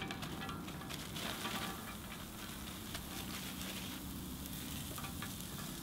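Sweet potatoes frying with a little oil on a hot plancha griddle, giving a steady, close, even sizzle with soft crackling throughout and no talking.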